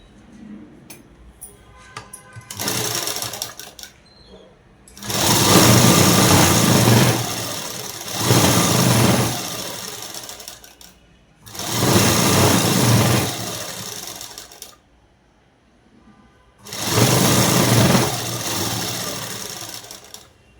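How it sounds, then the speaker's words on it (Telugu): A sewing machine stitches a night dress in four loud bursts of whirring, each lasting a couple of seconds, separated by short quiet gaps. "ఇప్పుడు ఈ చివరి నుంచి అనేది కుట్టు వేసుకుంటూ వచ్చేద్దాము"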